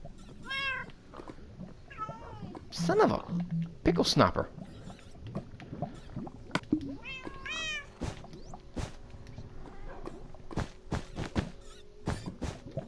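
Cats meowing in the Minecraft video game, several short calls scattered through, fairly close and moderately loud, mixed with game sounds while a person talks over them.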